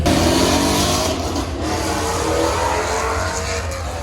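A loud supercharged Cadillac engine roars and revs continuously up close, its throaty growl rising and falling with a constant hiss over it.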